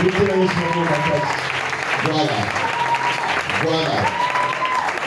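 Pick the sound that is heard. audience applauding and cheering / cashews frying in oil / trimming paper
audience applauding and cheering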